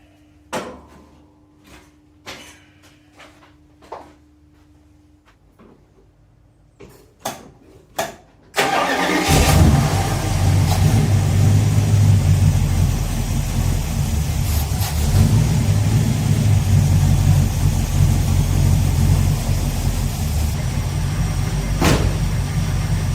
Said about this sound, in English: I'll let it fully warm up, probably increase the idle a little bit